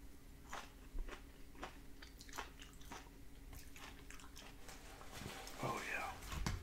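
Close, quiet bites and soft wet chewing of a Publix roast beef sub with banana peppers and spicy mustard, repeated crunchy bites spaced through, with a crinkly rustle near the end.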